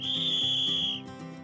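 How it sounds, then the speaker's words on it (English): A traffic warden blows a whistle in one long, shrill, steady blast that cuts off after about a second, while a low tonal background continues faintly underneath. "Traffic wardens are not signals, but they do signal with their arms and whistle"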